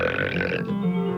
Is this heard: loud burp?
yes